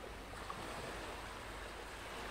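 Ocean surf washes in a soft, continuous hiss, faint and distant, with no voices.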